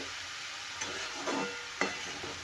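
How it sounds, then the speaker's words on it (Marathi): Fenugreek leaves and ridge gourd roasting in oil in a pan, a soft steady sizzle with three brief scraping strokes of stirring, fairly quiet and close. "एक मिनटा असं आपण तेलामध्ये भाजून घ्यायचं आहे"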